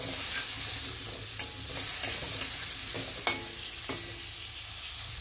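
Kohlrabi pieces sizzle and fry in a pan with turmeric and salt, a steady close hiss broken by a few sharp stirring scrapes, with no voices.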